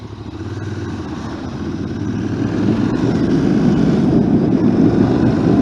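Royal Enfield Interceptor motorcycle engine running steadily at a dealership, a loud low rumbling drone that builds slightly in volume across the clip, with no voices.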